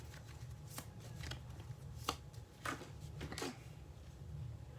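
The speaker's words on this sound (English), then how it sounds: "Let me pull one final card for our Taurus out there." Tarot cards riffled and shuffled close by in a quiet room, a run of sharp, crisp card flicks and slaps spaced irregularly over several seconds, with no voices over them.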